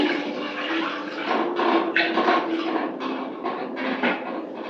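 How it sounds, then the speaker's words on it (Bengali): Water poured into a cooking pot for boiling sweet potatoes in a home kitchen, a steady continuous splashing stream that runs for several seconds, with no one talking. "সেদ্ধ করার জন্য পরিমাণ মতো জল দিচ্ছি।"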